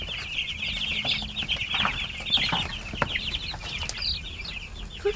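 A cluster of chickens clucks and chatters continuously outdoors on a farm, busy overlapping calls at moderate distance with occasional soft wing flutters.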